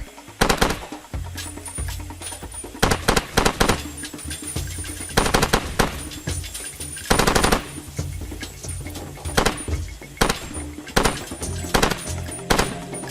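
Gunfire in the Far Cry 2 video game: loud bursts of automatic fire and single shots crack in uneven clusters over a low ambient bed, with birds chirping faintly in the background.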